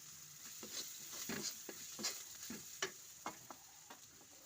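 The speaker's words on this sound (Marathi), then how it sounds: "खोबरं किस आहे अर्धा तेलामध्ये टाकणार आहे मी" Grated dry coconut frying in oil for sambar masala, with a soft continuous sizzle and scattered scraping stirs and clicks of a utensil against the pan, heard close with no talking.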